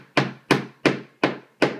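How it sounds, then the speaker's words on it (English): A hammer driving a nail into a piece of wood, with a knot in it, while a child builds a toy fire truck: five sharp, evenly spaced strikes, close and loud, with no talking. "Now take the hammer. Take the hammer and hit it."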